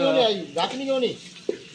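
Spice tempering sizzles in a pan for a village-style curry of country chicken, a steady hiss running under a voice that talks over most of the clip.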